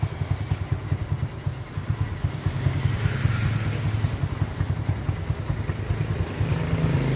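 Honda 67 motorcycle engine running while riding, a steady low throbbing putter close up and loud throughout, with a slight rise in revs midway.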